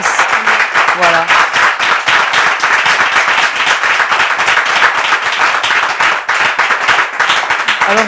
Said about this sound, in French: Vous pouvez vous applaudir une dernière fois.